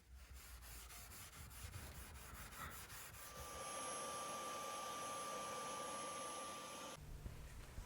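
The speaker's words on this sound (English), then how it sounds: "So I'm going to do that here now and buff all the surfaces" Steel wool buffing across the refinished wooden cabinet of a KLH Model Five speaker, a steady close scrubbing rasp that starts in short rubbing strokes and settles into continuous friction noise with a faint whine before stopping near the end.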